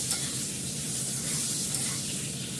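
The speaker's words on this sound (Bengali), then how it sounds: "আলুটা ভালো করে ভেজে" Constant crackling sizzle of potatoes frying in a pan, close and steady, with no voices.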